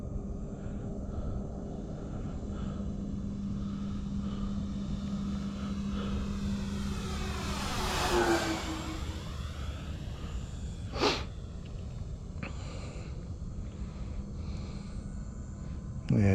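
An FMS F7F Tigercat RC model airplane drones steadily at moderate volume, with a pass that swells louder and sweeps down in pitch as it flies by, then a brief sharp burst before the engine tone settles back.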